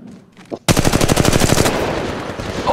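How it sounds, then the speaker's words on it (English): Rapid automatic gunfire from a weapon in the mobile shooter game Apex Legends Mobile, a loud sustained burst of fast repeated shots starting abruptly after a brief quiet moment and running to the end. "The enemies are shooting at me."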